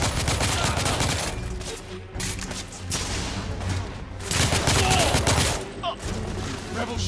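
Dense, continuous gunfire in the video game The Order: 1886, with shotgun blasts mixed into heavy overlapping shots and booms, loud and close, with a few brief lulls.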